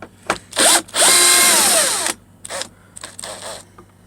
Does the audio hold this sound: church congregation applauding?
no